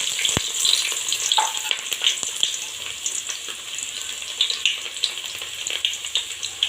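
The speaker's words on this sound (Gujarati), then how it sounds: "તેલ ગરમ થઈ ગયું છે આપણું। ડુંગળી નાખીશું" Onions drop into hot oil and sizzle continuously, a bright crackling fry up close with occasional louder pops, no voices.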